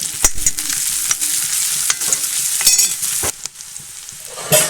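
Ginger and green chili sauté in a pan while beef fry is made, with a steady sizzle broken by repeated spoon-stirring scrapes and clinks, close up with no talk.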